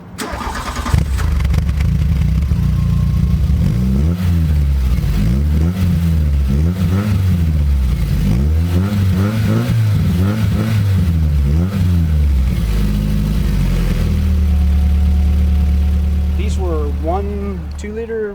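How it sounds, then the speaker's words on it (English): A VW Rabbit engine running through a straight-pipe exhaust with header and performance muffler revs up and down repeatedly, giving a raspy rising and falling drone. It is loud and close, with voices speaking over it. "it's straight pipe back with a header on it and a performance bro speed muffler"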